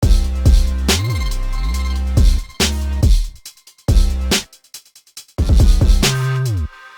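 A flutter effect panned smoothly from left to right within a hard trap beat made in FL Studio, heard with the full track: loud booming bass and hard drum hits in stop-start bursts, no talking.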